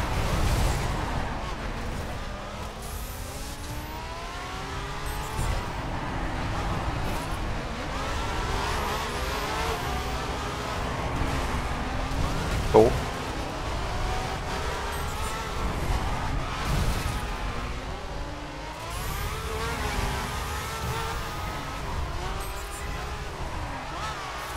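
A car engine revs and accelerates in the racing game The Crew during a multiplayer PVP race, a continuous droning motor with rising pitch sweeps and a brief sharp bang midway, under talk.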